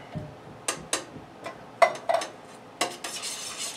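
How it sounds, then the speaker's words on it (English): Corn being stirred in a pan, a handful of sharp, close utensil scrapes and clinks against the pan at uneven intervals over a quiet background. "Give that a stir."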